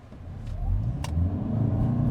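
A 2025 Toyota Camry XSE AWD hybrid in sport mode accelerates gently up a slight incline, its steady low engine rumble swelling and building in intensity over about two seconds, with no talking.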